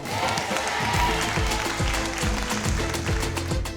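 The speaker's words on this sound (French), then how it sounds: "Vous pouvez applaudir." Studio audience applause on a television set, steady dense clapping throughout with a low rhythmic musical beat running underneath.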